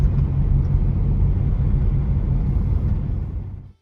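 A car drives in toward an off-grid tiny cabin in snow country, giving a steady, close low rumble of engine and tyres that holds for several seconds and then cuts off.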